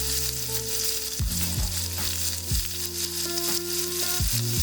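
Onions sizzling in a hot pan where rainbow trout has been cooking, a steady loud frying hiss with occasional stirring scrapes and a faint hum, no talk.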